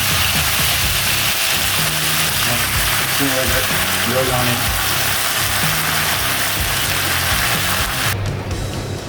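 Beef stir fry with plenty of sauce going into a very hot pan, giving a loud continuous sizzle and bubbling hiss that cuts out abruptly near the end, with someone talking over it.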